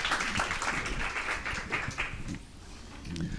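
An audience applauds at the end of a health startup pitch day, giving steady, dense clapping that carries on for a few seconds before tapering off.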